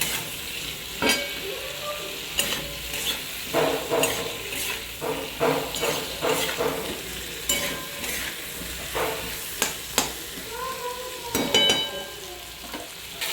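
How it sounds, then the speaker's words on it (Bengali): Turmeric and salt sizzling in oil in a pan while cooking a drumstick curry, with continuous frying hiss and repeated scraping, clinking stirs of a utensil against the pan, close and fairly loud. "এটা লাড়াচাড়া করে একটু ভেজে নেব"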